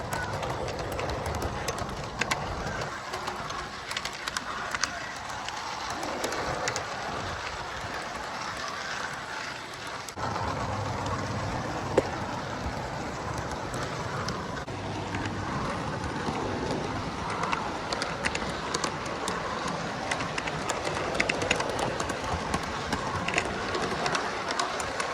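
An O gauge toy train locomotive runs along its track, producing a continuous rattling rumble with rhythmic clicking over rail joints, steady and close throughout, with faint background noises.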